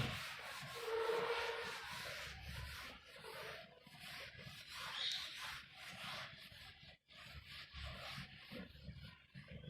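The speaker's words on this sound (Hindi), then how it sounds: "मैं ये प्रॉपर्टीज रब कर रहा हूं क्योंकि अब इनका ज्यादा यूज नहीं है" Chalk being rubbed off a classroom board, a quiet uneven scrubbing that comes in repeated strokes with short pauses, close and faint, with no talking.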